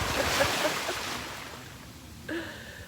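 Ocean waves wash up at the water's edge in a soft, airy surge that fades, then a brief new swell near the end, with light wind.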